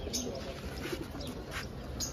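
Faint cooing of a hand-held Fitki breed pigeon under a steady noisy background, with a few soft chirps nearby.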